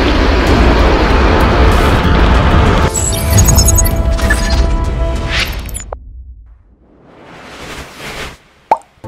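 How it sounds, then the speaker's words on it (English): Rocket liftoff carrying Indonesia's SATRIA-1 satellite, a powerful broadband roar that holds strong, then cuts and fades into a softer distant rumble with a sharp knock near the end. "8, 7, 6, 5, 4, 3, 2, 1, ignition. And lift off."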